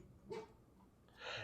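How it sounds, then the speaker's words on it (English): A puppy barks in the background while work is done on a 1967 Pontiac Firebird, two soft, somewhat distant yaps with quiet space between them and no talking. "That was one of her barks, was just a woof woof woof."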